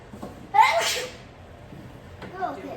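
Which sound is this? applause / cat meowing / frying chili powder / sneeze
sneeze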